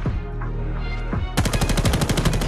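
Rapid automatic gunfire from a video game shooter erupts after a quieter stretch, a dense string of loud, evenly spaced shots that runs through to the end.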